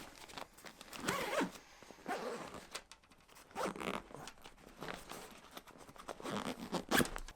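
The main compartment of a running backpack is zipped closed in several quick, close zipper pulls with handling rustle in between. The sound is quiet, with no talking.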